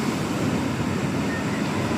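Strong sea waves surge continuously along a storm-battered shore in Samar after successive typhoons, a steady, dense roar of surf and wind with no pauses.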